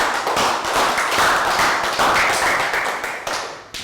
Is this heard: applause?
yes